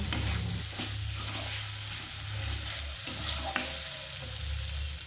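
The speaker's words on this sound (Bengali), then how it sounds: "দিয়ে দেওয়ার পর আবারও ভালো করে মশলার সাথে মিশিয়ে নিতে হবে।" Fried potato pieces are stirred into sizzling spices in a pan for a pumpkin dish, a constant loud frying hiss with occasional scraping strokes and light knocks of the spoon, no talking.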